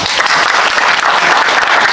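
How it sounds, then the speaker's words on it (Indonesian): Loud, dense applause from a crowd at a village development planning meeting in Indonesia, steady clapping filling the whole moment without pause. "Tepuk tangan untuk Bareng"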